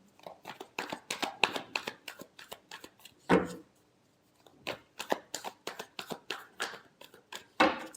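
Tarot cards shuffled by hand at close range, a rapid run of crisp riffling flicks broken by a brief pause, then a second burst of quick snaps.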